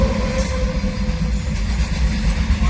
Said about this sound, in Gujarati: જેતપુર જો ટ્રેન જાય છે.